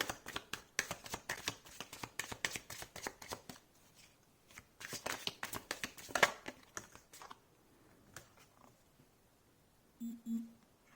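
Tarot cards shuffled and laid out in quick papery bursts of riffling and slapping, alone and close, pausing briefly before a final soft card placement.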